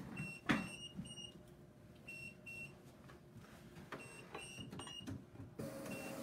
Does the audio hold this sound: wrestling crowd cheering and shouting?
no